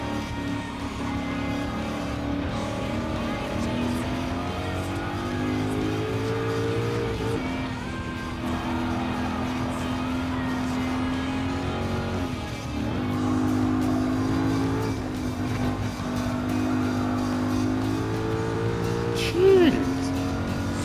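A car engine from the Porsche 911 in Gran Turismo 7 hums steadily and revs up and down through laps, with a sustained tonal drone and occasional pitch rises, while someone talks over it throughout.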